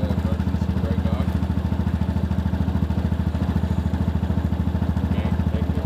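A Rhino utility vehicle engine idles close by, a loud steady low chugging with a fast even pulse and a light mechanical clatter on top.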